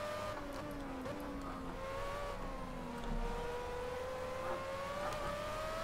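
Formula A open-wheel race car in the Project CARS racing game, its engine holding a steady high-pitched drone that rises and falls gently as the throttle is worked, loud and continuous with no talk over it.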